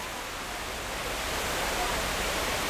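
Sai Yok Noi waterfall near the railway halt at the end of the Kanchanaburi line in Thailand, a steady broadband rush of falling water, loud and constant, gradually swelling slightly toward the end.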